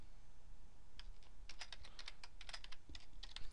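A table name being typed on a computer keyboard in Microsoft Access 2010, a quick run of crisp, close key clicks in irregular bursts with no talking.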